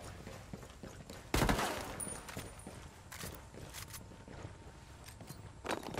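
Gunfire in the Tom Clancy's Ghost Recon Wildlands video game: a loud close burst near the start, then scattered distant shots and rattling reports through a busy battle soundscape.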